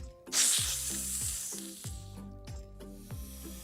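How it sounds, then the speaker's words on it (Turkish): A snake's steady, airy hiss, loud at the start and then holding on, over a soft repeating musical backing. "Yılanlar böyle ses çıkarır"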